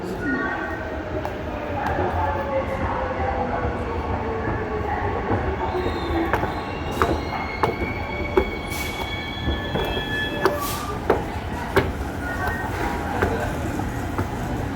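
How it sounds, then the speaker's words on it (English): A Perth Ellenbrook line train runs steadily close by, with a continuous rumble, whining wheel squeal and faint pings and tones over it. "This is our train going to Ellenbrook."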